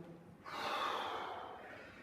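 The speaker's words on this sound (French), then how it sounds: "Respirez profondément par le nez, bloquez la respiration." Someone doing a fencing home workout draws a deep breath in through the nose, a single long rushing inhale that swells and then tapers off, close and fairly soft.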